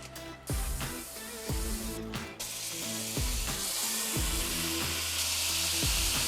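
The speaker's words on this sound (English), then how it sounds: "Get your skillet nice and hot, mash those bad boys down in there." Keto burger patties sizzling in a hot skillet, a loud continuous crackling hiss broken by several dull thumps as the meat is pressed down, with background music underneath.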